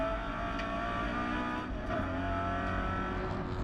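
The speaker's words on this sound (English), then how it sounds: "Listen to the sound of the Toyota 86 hard at work" Toyota 86 race car engine working hard on track during a NSW Production Touring Cars round at Wakefield Park, a loud, steady onboard drone with rising and falling revs, continuous throughout.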